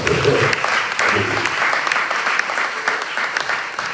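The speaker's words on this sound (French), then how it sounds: "Applaudis Jésus. Applaudis." A congregation claps during a church worship service. The applause is dense and sustained, with voices mixed in beneath it.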